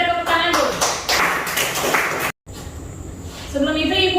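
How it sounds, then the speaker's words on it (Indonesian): A school class claps hands together in quick, loud, fairly rhythmic bursts, with voices talking over the clapping, followed by a brief silence before a teacher's voice continues. "Kita tepuk tangan dulu."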